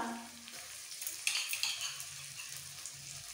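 Grated ginger dropped into hot oil for street-style pav bhaji, a soft steady sizzle with brief stirring and spatula scrapes, fairly quiet and close, no voices.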